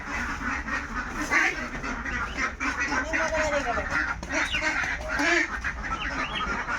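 Ducks quack repeatedly in a lively cluster, with goose-like honks mixed in over a noisy outdoor winter background near a river.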